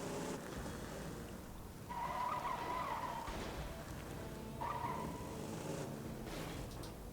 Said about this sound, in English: Now I'm just going to avoid those annoying motorcycles.